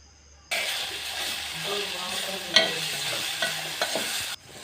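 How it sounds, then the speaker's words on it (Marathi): Spice masala for a cauliflower curry sautés in a pan, starting abruptly with a steady sizzle and scraping stirring sounds, plus a few sharper clinks, lasting about four seconds before stopping. "त्यानंतर मिक्स केलेला मसाला घालायचा ते छानसे परतून घ्यायचे"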